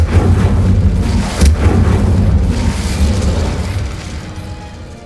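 An Incendio fire spell is cast in the game Hogwarts Legacy, giving a loud, sustained fiery roar with booming low rumble and crackling bursts that slowly fade over several seconds.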